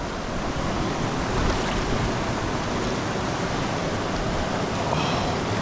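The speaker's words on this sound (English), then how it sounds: "Nice little brook." A small brook flows steadily outdoors in Culpepper, Virginia, its dense, even rushing wash close to the microphone and constant throughout, with no speech.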